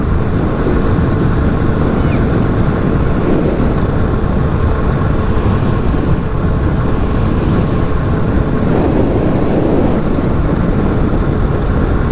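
Steady, roaring wind blows continuously across the whole stretch, a broad rushing noise with no voices, loud and unbroken throughout.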